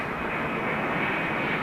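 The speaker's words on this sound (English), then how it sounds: "cargo jet in from Cincinnati" A cargo jet arriving from Cincinnati at an airport, a steady, loud engine roar that fills the whole stretch without a break.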